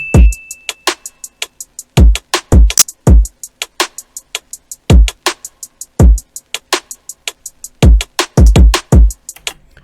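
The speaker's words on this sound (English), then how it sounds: "That's going to be the hi-hat throughout the chorus." A fast, steady hi-hat ticks in double time over punchy kick and snare hits, with occasional quick rolls, loud and close.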